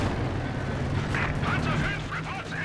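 An MG42 machine gun rattles in a Company of Heroes 2 battle, a steady wash of gunfire and explosions running throughout while a voice talks over it.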